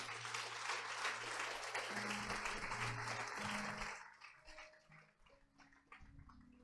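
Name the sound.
church congregation applauding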